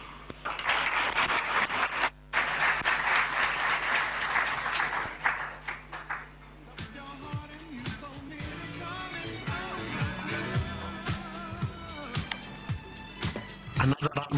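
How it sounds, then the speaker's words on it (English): Audience applause at a banking conference rises as a talk ends, dense clapping filling the room for several seconds before fading into scattered claps under a host's voice. "Another round of applause, ladies and gentlemen."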